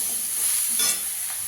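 Chopped tomato goes into a hot frying pan with a soft, steady sizzle and a brief swell of stirring, close and fairly quiet with no talk.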